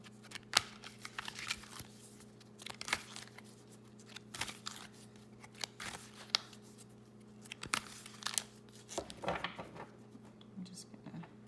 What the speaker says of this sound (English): I usually just overhand shuffle in general.